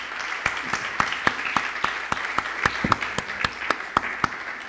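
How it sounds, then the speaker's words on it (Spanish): A church congregation applauds, a steady run of close, sharp claps from a crowd that keeps going for several seconds. "Démosle un aplauso al Señor."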